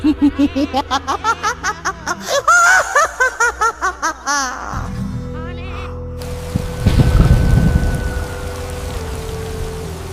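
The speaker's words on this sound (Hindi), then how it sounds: "बाहर बारिश की बूंदें तेज हो रही हैं।" Heavy rain pours down outside a village house at night, a dense steady hiss that swells to full loudness in the second half, after a stretch of voices talking with the rain only faint beneath them.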